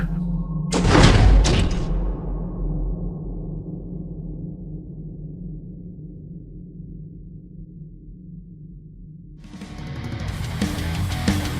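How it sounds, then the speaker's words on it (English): Heavy sliding double doors slam shut with a loud thud, then a long low rumbling hum fades slowly before a burst of distant noise rises again. "the sliding pair of double doors close behind you"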